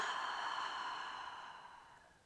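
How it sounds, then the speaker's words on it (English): A long, soft exhale during a hypopressive core and pelvic floor exercise, a breathy airy rush that starts moderately and slowly fades away over a couple of seconds, close and quiet with no talking. "And then inhale, exhale, come down."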